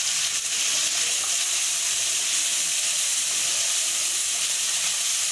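Tamarind juice mixture cooks in a pan for sevai, giving a steady, even sizzle and bubbling hiss that runs unbroken and fairly close throughout, with no talking.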